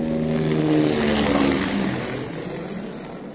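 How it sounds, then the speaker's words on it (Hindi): Helicopter rotors and engine drone loudly overhead with a broad whooshing roar that slowly fades as the aircraft moves away, on the Mount Everest Base Camp trek in Nepal. "थोड़ा आगे बढ़ते हुए कुछ और हेलीकॉप्टर देखने को मिले"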